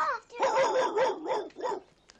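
A dog barks close by in a rapid run of four or five sharp, loud barks, with a short whimpering edge, ending in quiet.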